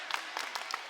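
A high school boys basketball crowd claps in a short, loose burst, scattered hand claps close by, fairly faint.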